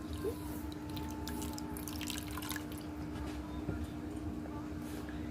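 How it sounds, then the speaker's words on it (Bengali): Water is poured over a cup of semolina in a kitchen to soak it, giving light drips and trickles over a steady low hum. "এবার এখানে জল দিয়ে সুজিটাকে ভিজিয়ে রাখবো"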